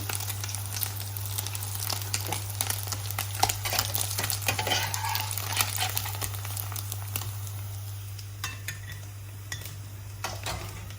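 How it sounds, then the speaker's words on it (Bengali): Small puti fish fry in a pan with a soft continuous sizzle, while a utensil repeatedly scrapes and clinks against the pan, stirring in an uneven rhythm close by. "আমার পুঁটি মাছ ভাজা হয়ে গেছে আর পুঁটি মাছের যে একটা ফ্লেভার আসছে ভাজার"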